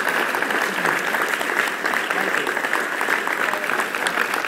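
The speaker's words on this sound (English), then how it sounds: "If we could have a nice round of applause." A live audience gives a warm, steady round of applause, many hands clapping in a dense, continuous wash at moderate loudness throughout.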